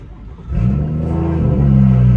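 A Stage 2+ BMW M240i running 93 octane accelerates at half throttle, its engine rising from a low idle into a loud, close, steadily climbing growl with a deep rumble.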